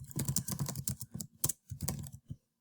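Quick bursts of computer keyboard typing, close and fairly soft, with short pauses between runs of keystrokes and no voices.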